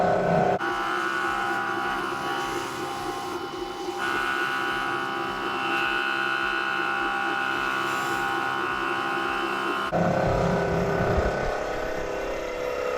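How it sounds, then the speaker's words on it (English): A wood lathe spins steadily with a sustained whirring hum while a regular chisel parts off a small coffee scoop handle, the tone shifting slightly as the cut deepens and a scraping burst marks the end. "think I'm going to just use a regular chisel to part that off the rest of the way."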